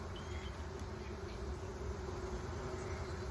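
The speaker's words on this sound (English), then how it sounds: "There's only a handful of bees in there, and they will certainly find their way over here." Honeybees buzz steadily around a hive during a split inspection, a continuous close drone that holds at an even level with no talking.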